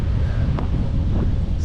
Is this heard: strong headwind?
yes